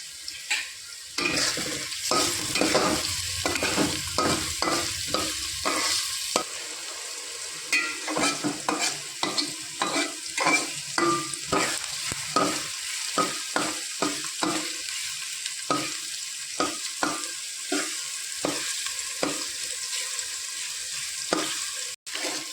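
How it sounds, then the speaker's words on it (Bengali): Onions frying in a pan for ginger-garlic khichuri, with steady loud sizzling and repeated close scraping stirs of a spatula through the whole stretch. "পেঁয়াজটা ভাজা হতে হতে আমি আদা পেঁয়াজ রসুনের পেস্টটা করে নেব"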